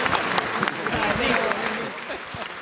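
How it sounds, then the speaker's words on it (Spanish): Steady applause from an audience fills the clip, a dense patter of clapping at even loudness with voices mixed in underneath. "Un aplauso."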